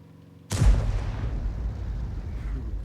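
An artillery gun carriage fires in a tank video game: a single heavy, close boom that hits hard and then rolls into a long, low rumbling decay, with no voices.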